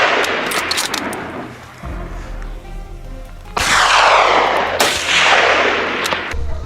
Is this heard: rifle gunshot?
yes